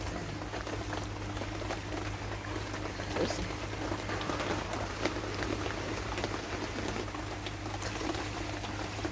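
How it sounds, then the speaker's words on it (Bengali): Rain falls outside in a steady, unbroken patter heard from indoors, with a voice faintly underneath. "বাইরে হলো বৃষ্টি হইতেছে।"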